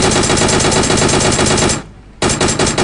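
Rapid automatic gunfire from the video game PUBG crackles in dense, loud bursts, breaks off for a brief pause, then resumes just as intensely.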